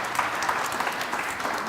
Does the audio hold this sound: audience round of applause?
yes